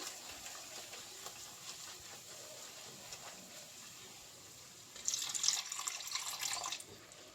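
A little water is poured into fish curry frying in oil in a Bengali kitchen. A faint background hiss gives way to a brief, soft splashing pour near the end, quiet and close with no talking.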